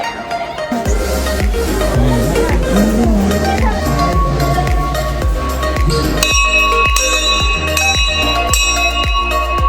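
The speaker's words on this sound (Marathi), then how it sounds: "आपण घंटी वाजवू." A metal temple bell at a Mahadev shrine is struck over and over in a fast, steady rhythm, its ringing tones layering loudly and continuously with faint background chatter.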